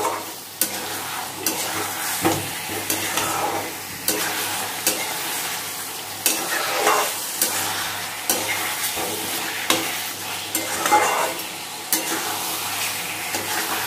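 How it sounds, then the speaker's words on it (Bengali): Mutton sizzles in a wok as meat stock is added a little at a time, with repeated loud scraping stirs and a constant frying hiss between them. "এবার আমি মাংসের সেদ্ধ যে জলটা ওটা অল্প অল্প করে দিয়ে দেবো"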